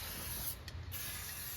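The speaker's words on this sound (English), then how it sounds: "use this heavy-duty metal protector to spray that onto the frame." Heavy-duty metal protector undercoating sprayed from a can onto a Toyota Tacoma truck frame with the tire removed, a close, steady hiss with a short break in the middle.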